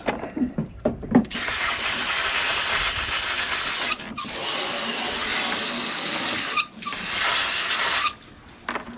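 A garden hose sprays water onto freshly cleaned blue crabs, a loud steady hissing gush in several long bursts separated by brief pauses.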